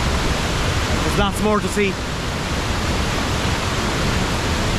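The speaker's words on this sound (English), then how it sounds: "With all the rain that we've had recently, the waterfalls are spectacular." Rain-swollen waterfalls roar steadily as a constant broadband rush throughout, with a person briefly speaking over it.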